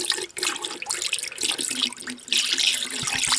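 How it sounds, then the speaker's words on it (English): Antifreeze poured from a gallon jug into a sink drain trap while winterizing an off-grid mobile home: a steady close splashing, gurgling flow of liquid that continues throughout, loud and uninterrupted. "We want to fill that completely with antifreeze and purge out the water."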